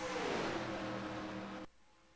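Stock car engines drone loudly at high speed around Daytona International Speedway in a racing game, a sustained roar with a passing pitch shift that cuts off abruptly near the end.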